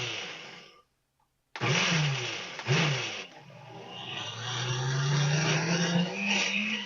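A Hamilton Beach blender whirring through cashew cream, starting after a brief silence, surging in short pulses, then running steadily with a rising motor whine, loud and close.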